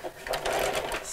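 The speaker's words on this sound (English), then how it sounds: "I'm going to sew about a quarter of an inch each side of the seam, just in a straight line" A brief, fairly quiet burst of sewing machine whirring as it top stitches in a straight line beside the seam of a Christmas bauble appliqué cushion, using a lengthened stitch and pale grey thread, with a voice speaking at the same time.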